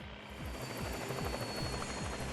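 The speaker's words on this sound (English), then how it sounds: "The chopper was in a spin." Helicopter in the video game Anonymous;Code spinning out of control after losing power, a steady loud rotor drone with rhythmic low thumping throughout, no talk.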